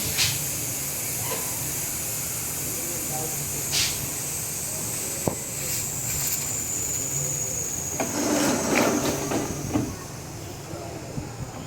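Steady loud hiss of steam escaping a pressure cooker of mutton for biryani, with bursts of spray and faint clatter, continuous throughout.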